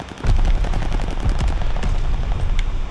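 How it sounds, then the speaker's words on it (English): A heavy-duty gun firing in the Call of Duty Vanguard shooter on Xbox Series X, loud sustained bursts of rapid shots with booming low thumps, continuous across the whole stretch without talk. "Let's see what this heavy duty gun do"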